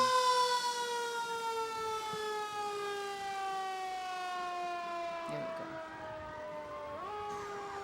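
The Manhattan emergency team's vehicle passes in a Loyalty Day parade with its siren sounding a steady, loud wail that holds for several seconds and then dips and rises near the end, over faint crowd noise.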